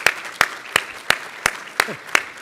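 At a sports hall of fame banquet, a single nearby pair of hands claps seven times in an even rhythm over a quiet room.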